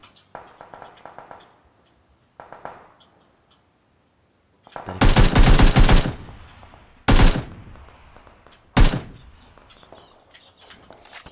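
Gunfire in a shooting video game: a few faint sounds at first, then a loud dense burst of automatic fire followed by two sharp separate bursts with gaps between.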